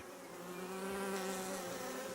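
A steady, close drone of many honey bees buzzing within the hive, unbroken for a couple of seconds with no speech.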